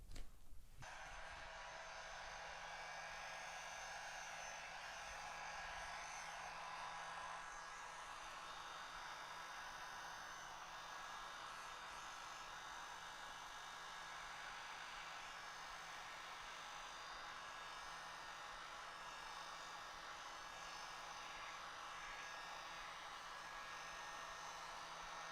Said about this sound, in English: use our heat gun and blow all over the hat so you have an even shine